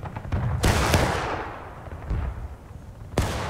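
Volleys of musket fire in a Civil War video game battle at Burnside's Bridge: several sharp, loud shots with echoing rumble between them, a cluster early on and another crack near the end.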